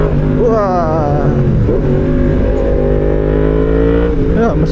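A motorcycle engine while riding, its loud steady drone holding close throughout, with a voice speaking over it.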